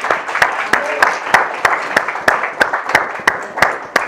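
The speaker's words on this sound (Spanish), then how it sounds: "¿No merece que le demos un aplauso al Señor por eso?" Church congregation clapping in a steady rhythmic beat, with sharp regular claps roughly three per second, fairly close and loud, mixed with voices singing or shouting along.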